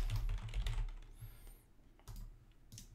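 Someone types a folder name on a computer keyboard, a quick close-up patter of key clicks broken by a short pause, then a few more taps.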